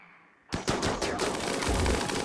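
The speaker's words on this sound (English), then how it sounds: "I love just like minigunning the wall." A rapid, continuous burst of heavy automatic minigun fire in RimWorld starts abruptly and keeps roaring without a break, like a spinning multi-barrel gun.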